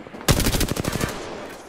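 Automatic gunfire in the Apex Legends shooter game, a single close, loud burst of about a dozen rapid shots lasting under a second, then a short fading tail.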